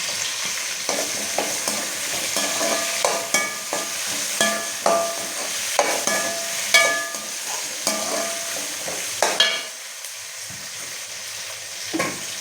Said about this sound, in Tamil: இது ஒரு 2 நிமிஷம் அப்படியே எண்ணெயிலே நல்லா வதங்கிட்டுங்க.